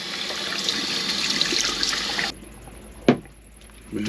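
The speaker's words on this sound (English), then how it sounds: "I gotta wash my hands now" Running water splashes steadily from a tap in a camper van as hands are washed for a couple of seconds, then cuts off, followed by a sharp knock and faint trickling.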